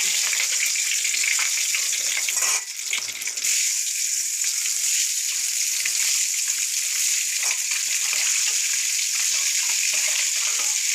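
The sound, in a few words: eggs coated in turmeric and salt frying in oil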